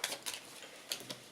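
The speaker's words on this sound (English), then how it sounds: "Hang on, give her a quick shuffle." Quick shuffle of a deck of cards for a Gloomhaven Jaws of the Lion board game, with several soft papery riffling bursts in an uneven rhythm, close and fairly quiet, and no talking.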